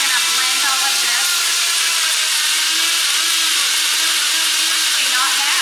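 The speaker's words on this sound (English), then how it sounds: "Is this little blender gonna do what I need it to do?" Small blender running continuously, a loud high whirring buzz that stays steady throughout, blending ingredients for a wellness shot.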